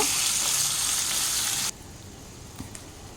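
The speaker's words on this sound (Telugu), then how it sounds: "ఆనియన్స్ కొద్దిగా వేగితే చాలు" Onions and green chillies frying in hot oil for upma, a bright loud sizzle that cuts off abruptly partway, leaving a quiet background with a couple of faint clinks.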